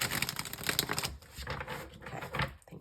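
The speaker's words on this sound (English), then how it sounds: "I am going to shuffle it this way." A deck of oracle cards is shuffled by hand with quick, dense riffling and flicking that goes on for about three seconds, close and fairly loud, with no talking.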